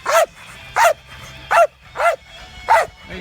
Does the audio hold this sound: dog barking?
yes